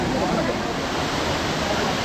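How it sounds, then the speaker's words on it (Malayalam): Kiliyur Falls in Yercaud pours as a dense, steady roar of falling water, broadband and unbroken, loud and close. "ഇതാണ് വാട്ടർഫാൾസ്."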